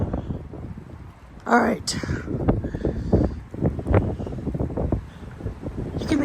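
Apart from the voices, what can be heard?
strong wind gusts hitting windows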